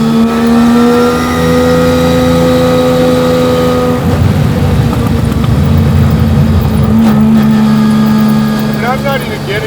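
A turbocharged three-rotor Mazda RX-3 engine drones loudly from inside the car, holding a steady tone, shifting pitch partway through, then rising again, with a person talking over the engine.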